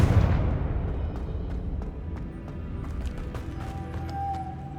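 A Confringo blasting spell explodes in the video game Hogwarts Legacy: one loud, close boom at the start that rumbles away into a fading tail with small crackles and debris.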